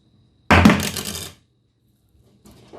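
A metal credit card drops onto a hard surface with a bright, clattering ring that rattles and decays over nearly a second, followed by a faint soft rustle.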